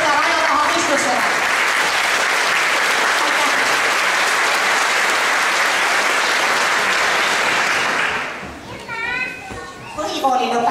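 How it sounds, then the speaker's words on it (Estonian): Sustained applause fills a school graduation ceremony for ninth-graders, dense and loud for about eight seconds before fading, with young voices chattering as it dies down. "Palun väga suurt aplausi"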